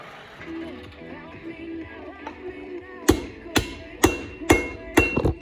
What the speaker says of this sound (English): this time we'll use the hammer and smack it in